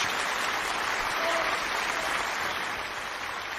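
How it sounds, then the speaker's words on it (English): An audience clapping and snapping fingers together, a dense, even wash of many hands that holds steady for a few seconds before easing slightly, with no talk over it. "Snap your fingers, or clap as well."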